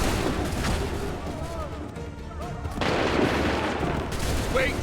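Musket volleys in the game Assassin's Creed III: dense crackling gunfire and booming shots roll through a battle scene, loud and continuous, with a brief lull before another heavy burst, while shouted voices carry over the din.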